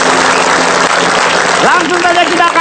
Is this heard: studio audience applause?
yes